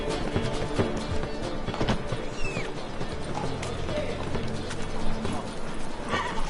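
Horse galloping in The Witcher 3, rapid clip-clop hoofbeats close up with a whinny and game ambience layered underneath, continuous for several seconds.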